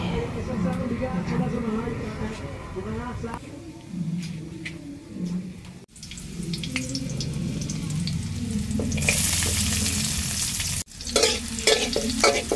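Shellfish are stir-fried in a pan with garlic, onion, ginger, tomato, chili and coconut milk, giving a continuous sizzle and scraping of a utensil with a person talking over it.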